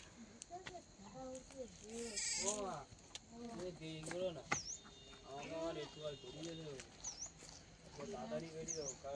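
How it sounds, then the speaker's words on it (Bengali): Sheep on a rural farm bleat several times in uneven bursts, some calls wavering and drawn out, with voices nearby and faint bird chirps in the background. "কোনো ভেড়া অসুস্থ নাকি, তো বলছে না ওরকম ডাকে"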